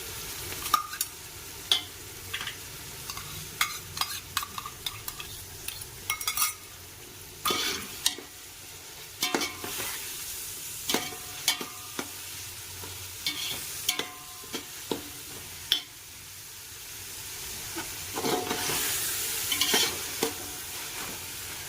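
Chicken frying in a pan with chili sauce, a steady sizzle under repeated scraping and clacking stirs at an uneven pace, close and continuous with no talk.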